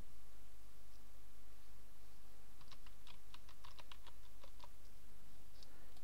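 A computer keyboard being tapped out in a short burst of about a dozen quick, light keystrokes while a password is entered, faint and close, over a steady hiss with no talk.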